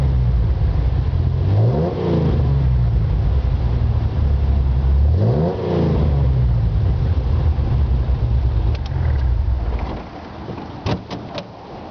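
A car engine runs steadily with a low hum, rising briefly in pitch twice as if revved, then settles back to a smooth idle around 700 RPM.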